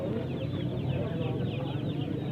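Chickens cluck steadily among hens and roosters at a busy livestock and bird market, with a dense crowd murmur and voices running underneath throughout.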